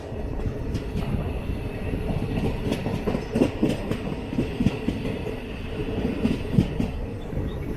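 A 22628 Trichy Intercity Express passenger train rolls through a rail yard, its steady rumble broken by repeated clickety-clack of wheels over rail joints, heard from on board with no talk.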